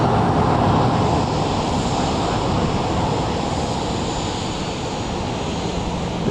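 A JSX jet in retro livery at Dallas Love Field at night, heard as a continuous broad roar of engine noise, steady and fairly loud, with no voices.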